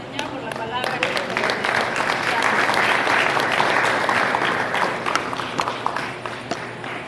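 A church congregation bursts into a long, full round of applause after a sermon, with crisp, dense clapping that swells and holds for several seconds and voices mixed faintly underneath.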